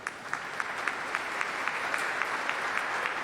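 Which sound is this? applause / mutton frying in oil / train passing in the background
applause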